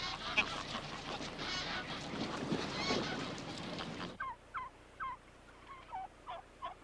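Wild turkeys gobble and call, a series of short repeated bursts in the second half, closer and distinct, following a dense stretch of noisy fowl calling with no voices.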